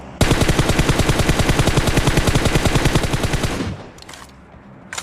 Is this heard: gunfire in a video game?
yes